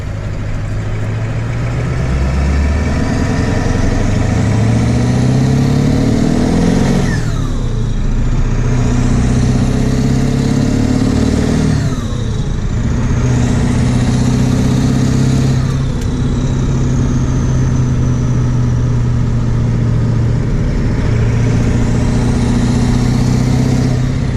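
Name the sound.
Ford Powerstroke 7.3 diesel truck driving, custom tuned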